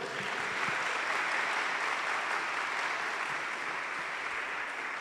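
Steady applause from a church congregation during a Catholic sermon, a dense, even wash of clapping at moderate volume that carries on unbroken for several seconds.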